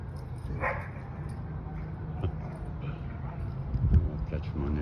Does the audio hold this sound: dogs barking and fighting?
yes